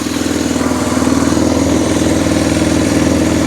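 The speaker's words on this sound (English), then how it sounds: "the idle doesn't actually sound that bad on it" An Arctic Cat engine idles steadily up close, a loud, even mechanical rumble with a rapid chugging pulse and no voices.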